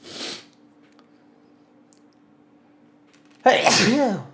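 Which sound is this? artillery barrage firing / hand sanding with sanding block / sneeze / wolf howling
sneeze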